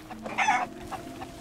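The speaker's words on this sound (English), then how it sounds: "I hear chickens." Chickens clucking in the pirate video game Sea of Thieves, a short burst of fowl calls over a steady low game hum, fairly close and moderately loud.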